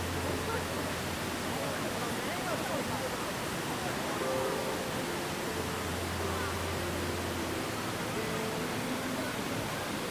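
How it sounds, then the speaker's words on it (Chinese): Steady, full rush of a small waterfall at Jiuzhaigou fills the whole stretch, with a low hum and faint speech-like traces sitting softly under the constant flow. "有一个小瀑布"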